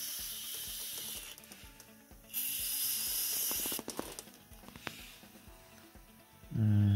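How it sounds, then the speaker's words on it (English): IPA DeoxIT contact cleaner hisses from a spray can into an electrical terminal connector in a couple of short and longer bursts, close and fairly loud against a quiet background. "we're gonna take the IPA deoxit contact cleaner and we're gonna spray this in here"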